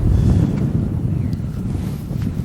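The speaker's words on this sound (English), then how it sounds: "There's enough wind today" Gusting wind blows across a large public lake, buffeting the microphone in a steady low rumble with faint water movement, loud and close, no voices.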